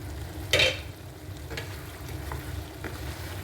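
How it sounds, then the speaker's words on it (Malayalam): Spicy chicken stirred in a pan over a high flame, with a loud scrape near the start and a few softer scrapes later over a steady low sizzle of liquid cooking off. "ഇനി നമുക്കിത് അടപ്പ് വെക്കണ്ട, അല്ലാതെ തന്നെ നല്ലോണം ഇളക്കി വറ്റിച്ച് വെള്ളമൊക്കെ വറ്റിച്ചെടുക്കാം"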